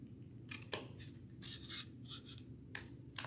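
Scissors snipping through a plastic take-out container, several quiet crisp cuts in a short irregular series, close and alone.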